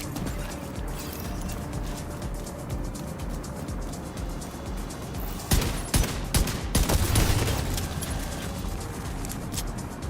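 Automated turrets firing in The Division 2, a dense rattle of shots breaking out in loud bursts midway over a constant background of game noise and ambience.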